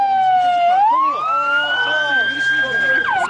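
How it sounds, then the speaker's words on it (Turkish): An ambulance siren wails loud and close as it arrives during street clashes around Taksim Square, its pitch sweeping up and holding high, with a voice talking over it. "Ambulans geldi, ambulans."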